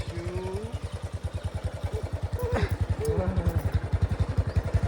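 A motorbike engine idles close by with a steady, rapid thumping pulse that holds throughout, while faint voices sound briefly over it.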